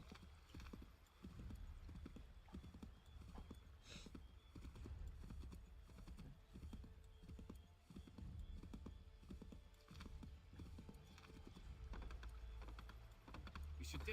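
Horse hooves clip-clop in a steady galloping rhythm during a ride in Assassin's Creed 3, soft and fairly distant under a low background rumble.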